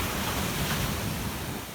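Ocean waves washing onto a clean sandy beach in Panama, a steady close roar of surf with no clear breaks and no voices.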